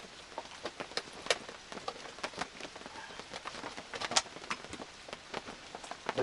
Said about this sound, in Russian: Вот и первое испытание дождем.